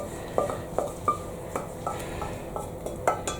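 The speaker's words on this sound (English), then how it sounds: "I need to have a good scrape around" Metal utensil scraping around the bottom of a cast iron pan holding leftover Greek gigantes bean and chard casserole, a series of quick scrapes and knocks at an uneven rhythm, close and fairly quiet, with no talking.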